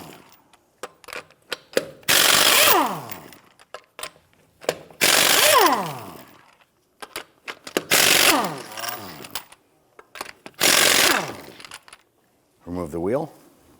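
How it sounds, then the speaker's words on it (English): Power tool with a 21mm socket loosening and removing lug nuts from a wheel on a 1992-1996 Toyota Camry, loud close bursts of ratcheting impact rattling, about five separate runs with pauses and clicks between. "Use a 21mm socket to go ahead and loosen and remove the lug nuts."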